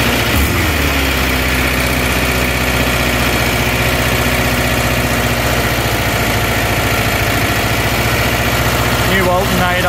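A 1976 VW Kombi camper engine with original twin carburettors idles loudly and close in a steady, even rumble throughout, with faint talk near the end.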